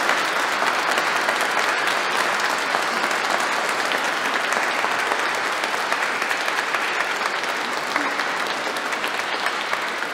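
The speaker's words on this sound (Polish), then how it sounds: "Więc serdeczne brawa się należą przede wszystkim Państwu dyrygentom, Pani Katarzynie, Panu Janowi." A concert audience gives choir conductors a long, even round of applause, dense clapping that stays loud and steady throughout, with no talk audible over it.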